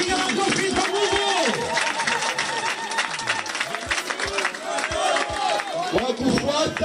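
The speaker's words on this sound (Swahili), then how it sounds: "asimame na mpige makofi" A crowd applauding and cheering for an honorable member, a newly elected member of parliament, at a gathering in Fizi; sustained clapping runs throughout with a busy hubbub of voices underneath.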